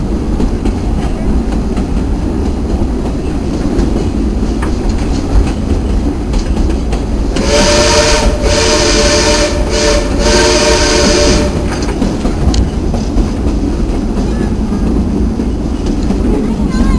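A train rumbles along with a steady rolling clatter while a loud whistle sounds in several long blasts midway approaching a tunnel, then the rolling continues.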